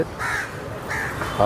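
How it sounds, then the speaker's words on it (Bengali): Crows caw repeatedly at the Assam state zoo in Guwahati, several harsh calls in quick succession over an open outdoor background. "অনেকগুলো পাখি ডাকছে"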